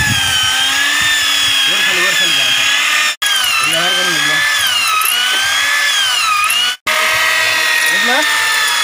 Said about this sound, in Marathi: ते तुम्ही हँड्रिलच्या माध्यमातून मारा किंवा सळीच्या माध्यमातून मारा किंवा ह्या अशा ड्रिल मशीनच्या